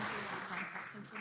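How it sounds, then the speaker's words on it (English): Audience at a senior citizens' law day conference applauding, a brief dense burst of clapping that fills the room, with speech mixed in. "Everybody, please give a round of applause."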